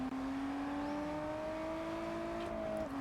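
Lotus Evora GT engine in the racing game Test Drive Unlimited Solar Crown, a steady synthetic engine drone holding a rising pitch as the car accelerates, alone and without talk.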